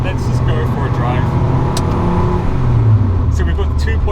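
A KTM X-Bow GT-XR driving with its Audi RS3 2.5-litre five-cylinder engine, a loud close drone that rises and swells, heard under someone talking.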